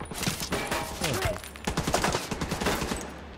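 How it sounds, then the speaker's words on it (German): Gunfire in the video game The Division 2, a burst of rapid shots followed by scattered single reports, loud and near, with a voice briefly heard among the shots. "ich kann mit der Waffe die ganze Brüstung hier wegballern"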